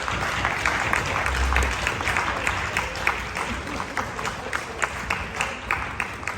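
Audience at a speaking event in Germany applauding, a sustained round of clapping with sharper individual claps standing out, heard from within the crowd.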